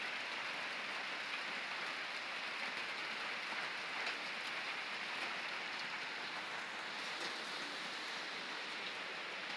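Steady rain falls in a soft, continuous hiss, evenly spread with no other sounds standing out.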